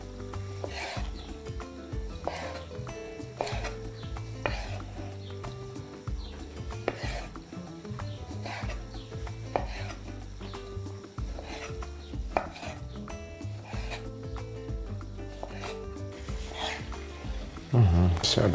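Two large tomatoes with their stems removed are cut into irregular pieces with a knife for a salad, giving a run of close, crisp chopping taps on a board at an uneven pace, with faint talk at times.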